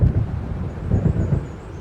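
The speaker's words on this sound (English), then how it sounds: "It seems there's a storm coming." Rolling thunder from a storm gathering over open water in the video game Alan Wake, a low continuous rumble with a few swelling pulses, fairly loud and close, with no voices over it.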